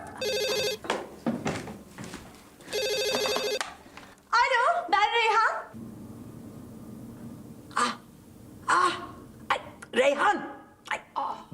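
A telephone rings in bursts of fast, bright electronic trilling, two clear rings separated by a pause, with people talking loudly and exclaiming in between and after.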